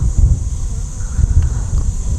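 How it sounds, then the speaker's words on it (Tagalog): Strong beach wind roars and buffets the microphone by the sea at Hundred Islands, Alaminos, Pangasinan, with a heavy, steady low rumble throughout. "Grabe lakas ng hangin."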